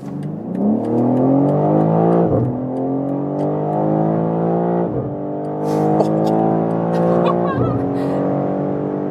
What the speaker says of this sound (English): now we're starting from 50 kilometers an hour. Let's see what we can score for the acceleration